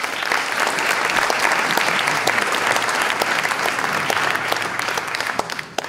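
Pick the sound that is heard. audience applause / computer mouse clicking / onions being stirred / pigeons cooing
audience applause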